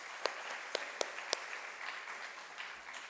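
At a vocal arangetram, the audience applauds the accompanying musicians with soft, diffuse clapping from a hall. A few sharper, closer claps ring out early, then the sound thins and fades toward the end.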